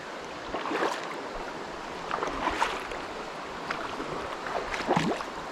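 A mountain bike wades through a cold, rocky creek nearly bottom-bracket deep on a Pisgah, North Carolina trail, with close, rough swishing and repeated splashes as the wheels push through the water.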